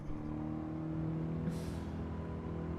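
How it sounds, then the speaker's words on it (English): Car exhaust note in Gran Turismo 7, steady and droning at a constant level, with a continuous engine tone throughout and a brief brighter hiss near the middle. "So the exhaust note changes with which exhaust you put on."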